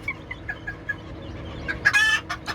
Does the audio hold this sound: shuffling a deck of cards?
no